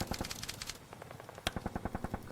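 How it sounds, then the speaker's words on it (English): Rapid bursts of infantry gunfire in a cinematic tabletop battle scene, a dense volley of shots at the start, then a sharp crack and a steady run of evenly spaced shots, loud and close. "They advance into the tall grass and open fire at the sniper team."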